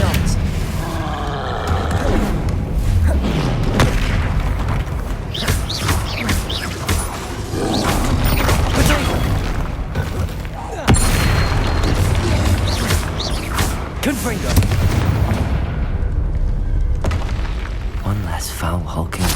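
Confringo blasting spells explode again and again during combat in the Hogwarts Legacy video game, loud booming hits over constant battle noise, with a voice speaking throughout.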